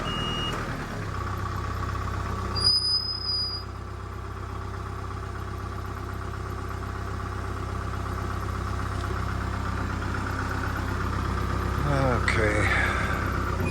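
A tractor engine runs at a steady idle with a deep, constant rumble. A short high tone cuts in early and some faint clanks come near the end.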